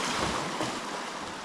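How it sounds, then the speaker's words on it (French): Steady rushing water, broadband and continuous like a flowing river, with some wind buffeting on the microphone. "mais Baron il a peur de la rivière"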